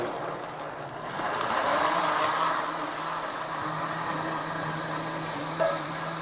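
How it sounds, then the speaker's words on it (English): A steady mechanical whirring blender motor runs continuously for several seconds, blending juice ingredients, close and moderately loud, with a brief higher whine near the end. "And now I'm gonna blend it just for 1 minute."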